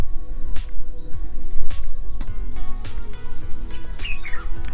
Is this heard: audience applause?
no